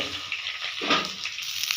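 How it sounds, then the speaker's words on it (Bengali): Cauliflower pieces fry in oil in a wok, giving a soft, steady sizzle with a few brief stirring scrapes, close and moderately quiet, with no talking. "ফুলকপি ভাজা হয়ে গেছে"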